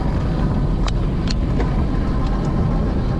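Mokwheel Obsidian e-bike cruising on pedal assist at about 15 mph, heavy continuous wind rumble with a few faint ticks of the drivetrain, no speech.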